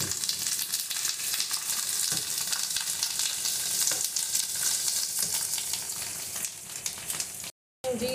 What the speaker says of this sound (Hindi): एक तरफ हमारा ऑयल गर्म हो रहा है, हम पापड़ जो है वो फ्राई करने लगे हैं।